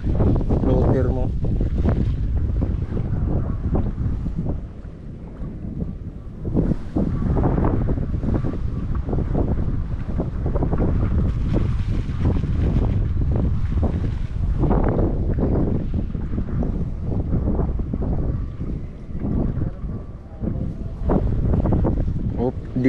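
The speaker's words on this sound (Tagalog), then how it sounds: "lumalakas lalo yung hangin" Strong, gusty wind buffets a small boat on a fishing pond, roaring and rumbling steadily throughout, with people talking over it.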